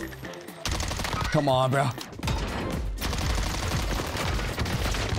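Gunfire in the video game Warzone, rapid automatic bursts close and loud over game noise, with someone speaking briefly in between.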